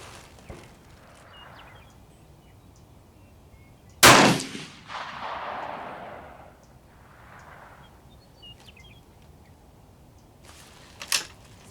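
Gunshots fired at range targets on an outdoor shooting range: one sharp, loud report with a rolling echo, a couple of fainter distant shots before it, and another crack near the end.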